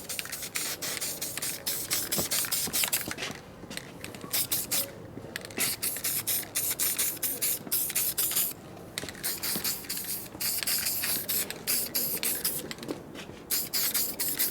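Spray paint hisses in bursts over parts of a 1942 Harley WLA/WLC 45ci star wheel hub, short sweeping passes with brief pauses between them, close and steady, with no talking.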